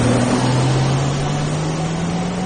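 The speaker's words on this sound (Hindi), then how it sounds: "अर्पिता ने गाड़ी की स्पीड बढ़ाई" A car engine drones steadily and its pitch slowly rises as it speeds up, with a continuous road rush behind it and no voices.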